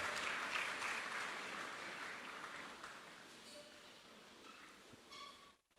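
A church congregation applauding in acclamation after the Gospel reading, a broad wash of clapping that is loudest at the start and slowly fades away over several seconds.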